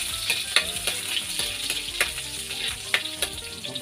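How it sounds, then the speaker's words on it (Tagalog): Onions sizzle and crackle in a hot pan, a steady loud frying hiss broken by sharp pops and stirring clicks, with no talking. "mainit ang ating kawali. Ilagay na natin ang ating sibuyas na."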